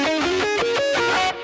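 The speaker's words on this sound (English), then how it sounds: "so we got two delays going, simple delay, and then a mod chorus echo" Electric guitar chords ring out through two delays, a modulated chorus echo and an ambient reverb, giving a crunchy, shimmering wash of repeats that swells in steady pulses and then cuts off sharply near the end.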